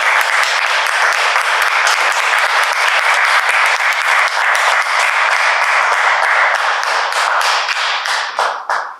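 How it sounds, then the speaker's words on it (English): Loud, sustained applause from a standing audience fills the room, steady clapping for a guest speaker at a reparations talk, thinning out near the end. "Everybody stand up, give applause for Dr."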